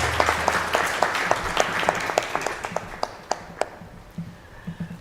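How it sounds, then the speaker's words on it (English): Applause from an audience honoring the winners at a climate solutions conclave, a dense wash of many hands clapping that thins out toward the end into a few scattered, louder claps. "Can we please have a round of applause for the winners?"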